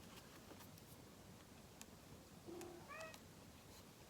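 A cat gives a single short meow, close but quiet, over a steady background hiss in a quiet room.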